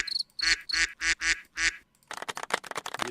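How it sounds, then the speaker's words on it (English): A soundboard duck effect gives a run of loud, close quacks, about six evenly spaced calls, then a denser burst of overlapping squawks and flapping-like chatter at the end, with no talk. "Bunch of ducks."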